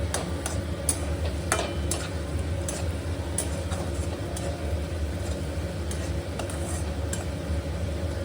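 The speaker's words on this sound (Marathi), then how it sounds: "सर्व मसाले चांगले तेलामध्ये असे भाजून घ्यायचे" Spices, including garam masala powder, roasting in hot oil for Satara-style baingan bharit while being stirred, a low continuous sizzle dotted with frequent light clicks and scrapes of the spoon against the pan.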